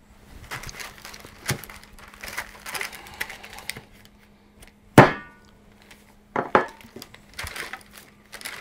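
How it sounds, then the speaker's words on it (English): A hammer test brings a few sharp, ringing impacts, one strong strike followed by a double hit, set among lighter clattering and rustling close by. "I'm just gonna do a little bit of a hammer test"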